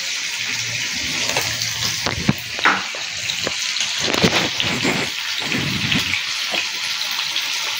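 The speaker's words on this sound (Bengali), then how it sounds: "এবার এগুলো ভাজতে থাকবো।" Potatoes fry in a pan with salt and turmeric, a loud steady hiss of hot oil with irregular pops and crackles and a few scrapes, close up and continuous.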